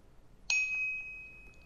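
A Yolink speaker hub plays a single clear electronic warning test tone, a bright ding that rings out and slowly fades in a quiet room.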